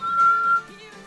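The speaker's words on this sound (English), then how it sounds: "For example, when you whistle normally" A person whistles normally, one steady, clear pitched tone that is held for about half a second and then fades out softly.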